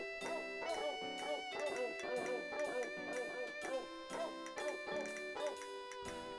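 Barking dog samples played as a pitched instrument in the Wii Music video game, quick tuned yips and barks in a bouncy melodic rhythm over sustained backing notes.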